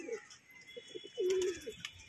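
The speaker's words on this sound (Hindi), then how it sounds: "और कबूतर मैंने खोल दिया है" A domestic pigeon outdoors gives one low, drawn-out coo, framed by a few shorter, softer coos, fairly close and quiet.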